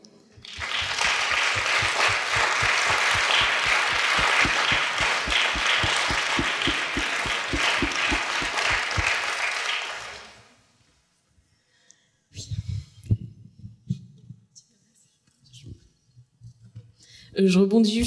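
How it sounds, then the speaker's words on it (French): Brisk audience clapping rises at a question-and-answer session on childbirth, loud and sustained for about ten seconds before stopping abruptly, followed by quiet room noise and scattered murmurs. "Moi, j'ai envie qu'on l'applaudisse"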